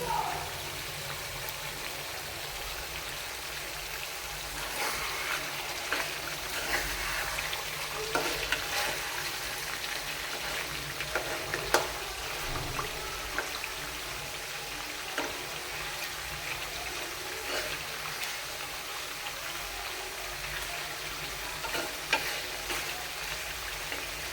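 Beef curry is stirred and fried in a pan, a steady sizzle with scraping and stirring knocks running throughout at moderate level and no talking.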